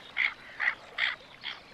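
Tufted ducks calling on the water at a wetland reserve, four short nasal calls evenly spaced about half a second apart, fairly faint against a quiet background.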